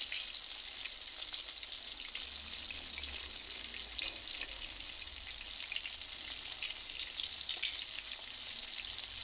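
Chicken wing pieces for hot wings frying in open oil, a steady, dense sizzling hiss that holds evenly throughout with slight swells, close by and with no talking.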